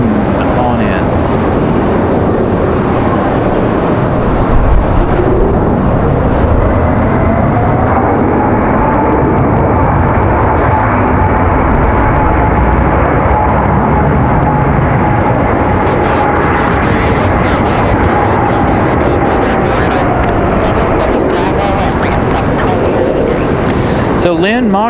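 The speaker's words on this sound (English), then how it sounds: "A220 floating on in." An Airbus A220 airliner comes in to land at Raleigh-Durham airport on a windy day, its broad jet roar building and holding loud and close, with wind buffeting the microphone throughout.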